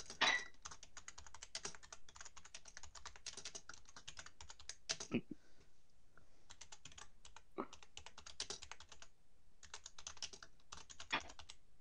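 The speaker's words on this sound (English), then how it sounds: "I hear you typing." Rapid typing on a computer keyboard, bursts of quiet clicking keystrokes separated by short pauses, faint and steady throughout with no talk.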